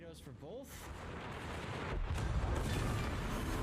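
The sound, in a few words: secondary battery gunfire from World of Warships video game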